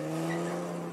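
Vintage cars revving their engines at the Laon hill climb, a steady mechanical drone with strong low harmonic hum held throughout one second, fairly close and continuous, no horn clearly standing out.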